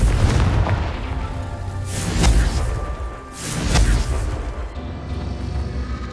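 Confringo fire spell blasts in Hogwarts Legacy, two booming explosions with whooshing bursts a second or so apart, loud over a rumbling game backdrop.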